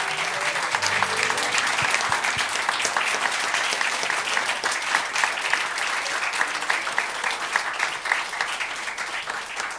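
Audience at an annual candle lighting ceremony claps while holding candles, a steady, even wash of many hands applauding at moderate distance for about ten seconds, with no talk over it.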